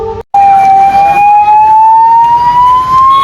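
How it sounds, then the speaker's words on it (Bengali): An ambulance siren wails very loud and close in a crowded fair, holding one steady tone that slowly rises in pitch after a brief cutoff at the start. "একটা অ্যাম্বুলেন্স আমরা দেখতে পাই। তো অ্যাম্বুলেন্সটা কোনোভাবে পার হতে পারছিল না মেলার মধ্যে থেকে"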